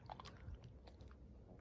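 A pet crunches and chews ice cubes, with faint, close, repeated crisp bites and grinding.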